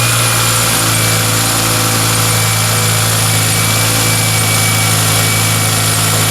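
A 7th-generation Toyota Celica engine idles steadily while warming up, giving a continuous, even drone with a low hum and a faint high whine and no change in pace throughout.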